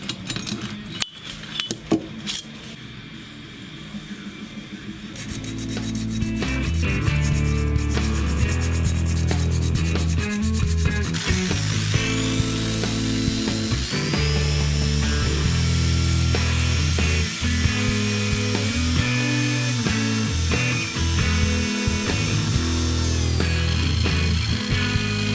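Thread cleaning on steel parts of a rotating table for a scraper-sharpening grinder with M12 × 1.5 threads: steady, loud rubbing and scraping that runs continuously with shifting tones, no talk over it.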